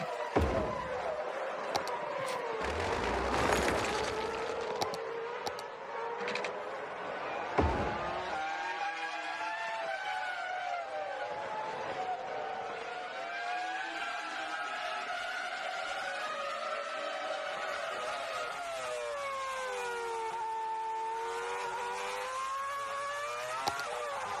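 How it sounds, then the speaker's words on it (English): A Formula One engine in the game Cities: Skylines screams at high revs, whining up and down through gear changes with a loud, sustained roar. "that's what an F1 car sounds like"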